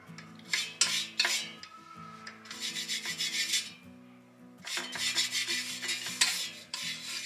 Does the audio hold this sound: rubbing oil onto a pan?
yes